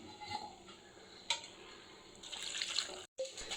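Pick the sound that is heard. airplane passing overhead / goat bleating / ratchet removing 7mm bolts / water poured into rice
water poured into rice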